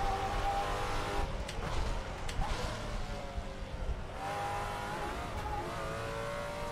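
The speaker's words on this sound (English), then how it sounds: "It's got quite a nice engine sound to it." A Maserati GT4 race car in the Assetto Corsa driving game revs steadily and climbs through gears as it laps a track, a continuous close engine drone with brief shifts and no talking.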